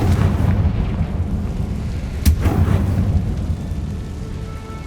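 Confringo explosive spell in Hogwarts Legacy, a single sharp blast near the middle over a heavy, continuous low rumble like distant thunder, loud and close, no voices.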